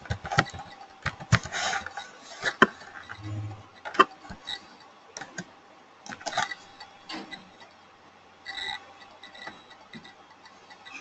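Typing on a computer keyboard as a search term is entered in Salesforce: irregular clusters of sharp, close clicks and taps with quiet gaps between them, and no voice.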